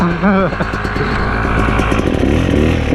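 A Yamaha YZ250X dirt bike accelerating in second gear on the Rampart Range trail: a loud, close engine roars and climbs steadily, and a voice is briefly heard near the start.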